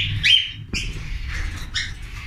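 Several cockatiels at a breeder's place give short, sharp chirps and whistled calls, close and fairly loud over a low background rumble.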